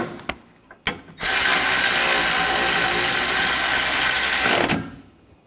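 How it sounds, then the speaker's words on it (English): A power tool drives in a bolt on the intercooler of a 2013–2022 Buick Encore 1.4L, running loud and steady for about three and a half seconds after a couple of clicks, then stopping. "Get the bolts started. And I'll tighten this down."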